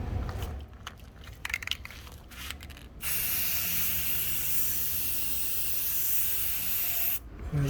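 White primer paint sprays from a can onto a car panel in a continuous close hiss of about four seconds, after some scattered handling noises and before a short pause.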